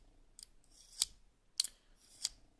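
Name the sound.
knife blade drawn through Lansky Blademedic sharpener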